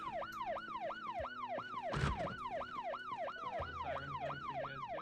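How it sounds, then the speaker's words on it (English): A wailing emergency-vehicle siren in the video game Project Zomboid cycles steadily up and down, loud and continuous throughout, with a brief noisy burst midway. "we might actually need to turn the siren off because it's actually like destroying VoIP right now."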